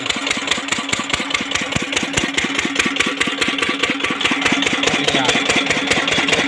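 A small oil engine pumping irrigation water on a farm chugs steadily with a fast, regular thumping beat and a noisy mechanical clatter, running without pause.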